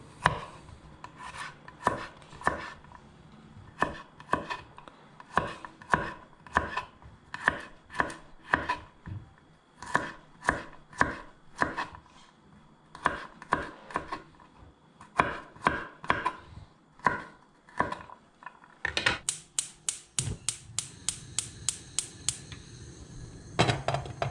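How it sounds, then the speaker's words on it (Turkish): A knife chops garlic coarsely on a board in dozens of sharp, evenly spaced taps, grouped in bursts, then speeding into a faster run of lighter strokes near the end. "Sarımsaklarımı şöyle iri iri doğruyorum."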